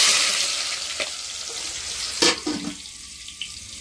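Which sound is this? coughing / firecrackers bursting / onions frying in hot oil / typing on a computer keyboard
onions frying in hot oil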